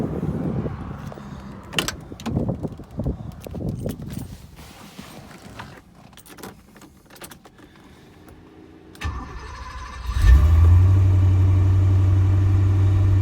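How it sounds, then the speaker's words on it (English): 1983 Porsche 928 V8 cranks and fires after some quiet handling and clicking noises, then settles into a steady, slightly high idle, close and fairly loud. "I'll go ahead and start it up"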